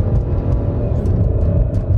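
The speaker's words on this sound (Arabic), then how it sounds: "قاعدة تتسارع معاك السيارة" Hard uphill acceleration in a 2020 Kia Cadenza, heard as a continuous loud, deep engine rumble with faint road noise and no speech.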